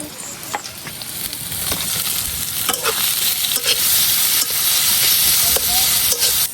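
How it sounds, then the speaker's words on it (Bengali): Onions and green chilies fry in a hot pan, giving a steady, close sizzle and hiss. Scraping stir clicks break through now and then, and no one talks. "এখন কাটটা রাখা কাঁচামরিচগুলা দেয়া দেব"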